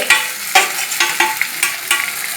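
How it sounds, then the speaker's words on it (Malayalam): Ivy gourd and onions are stirred in a frying pan, the spoon scraping in quick repeated strokes over a bright, close sizzle. "കോവയ്ക്ക് ഇട്ട് നമ്മൾ ഇളക്കി കൊടുക്കും"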